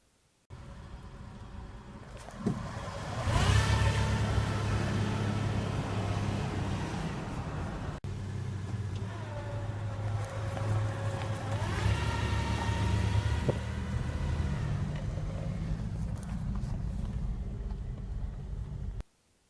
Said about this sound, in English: I will insert a couple really brief clips of how loud the whine has gotten